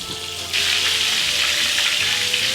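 Food frying in hot oil in a pan, a dense, loud, steady sizzle that jumps up sharply after half a second and continues unbroken, close to the microphone with no talking.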